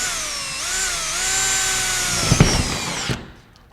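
Power driver spinning a fastener into a wall cabinet bracket, a loud continuous whirring whine that shifts pitch as it loads up, ending with a few knocks before stopping.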